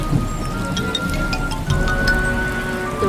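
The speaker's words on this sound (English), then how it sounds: "The rain is getting stronger, and the water is starting to fill up." Rain pours steadily in an animated children's cartoon, a dense patter of drops hitting surfaces with occasional brighter drips, growing heavier as water begins to pool, continuous and fairly loud throughout.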